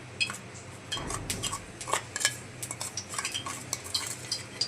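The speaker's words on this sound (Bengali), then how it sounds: "মাছগুলো মেখে নিচ্ছি।" Stinging catfish are mixed by hand with turmeric and salt in a bowl, giving close, wet squelching and light clinking against the dish in an uneven, busy rhythm.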